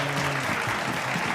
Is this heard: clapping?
yes